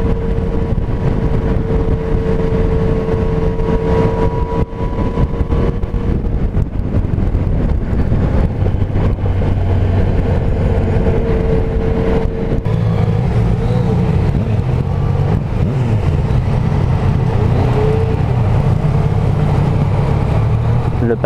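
Yamaha Niken three-wheeled motorcycle riding on cobblestones, a steady close engine drone with shifting tones and rumble, mixed with wind buffeting throughout; a rider speaks over it at times.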